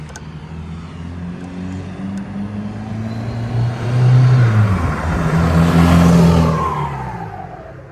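A VW Jetta TDI with an ALH diesel engine and an 8-inch exhaust stack revs with a deep, truck-like rumble that swells louder around the middle and holds high before easing off, close by with no talking.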